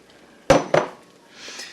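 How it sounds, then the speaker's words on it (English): A scraper drags out the last of the beaten egg from a bowl for a Japanese omelet. Two sharp clinks land close together, then a soft scrape trails off, all close and clear with no talk. "So I always use the scraper to get out the last of the egg"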